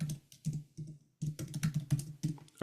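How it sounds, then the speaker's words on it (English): Quick bursts of typing on a computer keyboard, close and fairly quiet, with clusters of keystrokes broken by short pauses. "I'll type that for you."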